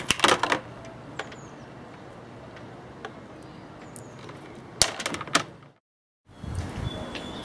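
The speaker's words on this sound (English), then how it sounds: "I'll cut the wires to the right length" Wire cutters snipping leads to length for a small solar battery connection, a few sharp clicks and snaps close by, with a burst at the start and another near the end, then brief silence.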